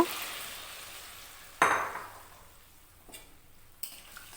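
Sola kochu curry being stirred in a pan, with a short scraping, sizzling burst and a few fainter stir strokes after it, close and alone with no talk.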